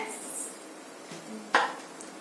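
A metal kadai set down on a kitchen stove, a few light clanks and one sharper metallic knock, close by, with quiet room background.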